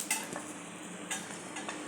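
Onion and dried coconut being sautéed in a pan for a prawn curry give a soft steady sizzle, with a few light clinks of a spoon stirring against the pan.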